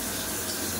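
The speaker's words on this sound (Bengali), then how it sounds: "এই যে জল যাচ্ছে" Tap water runs steadily into a basin sink in a home, a broad continuous rushing wash that stays even for the whole moment with no talking over it.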